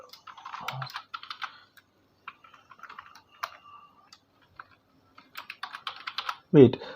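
Rapid typing on a computer keyboard, close and fairly quiet, coming in bursts of clattering keystrokes with short pauses between, while someone talks over it and a low thump sounds at the end.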